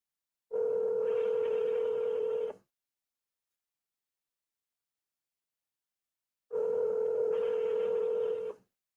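A telephone line tone during dialing of a phone number, heard as two steady, fairly loud electronic tone bursts of about two seconds each, separated by a few seconds of silence.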